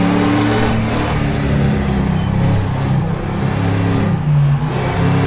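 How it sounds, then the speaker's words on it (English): Race car engine in the rFactor2 sim at the Dundrod circuit, loud and steady near the hill's crest, its revs rising and falling through a downshift to third gear. "Down to 3rd gear here for the top of the hill."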